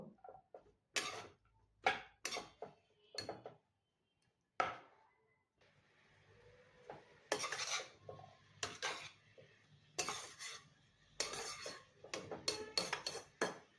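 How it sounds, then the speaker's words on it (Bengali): Red amaranth greens tossed with kalonji and ajwain in a pan, heard as scattered scraping and clinking strokes of a spatula against the pan, quiet and intermittent with short gaps. "আমি এখন ভালো করে নেড়ে চেড়ে নিয়ে নিব"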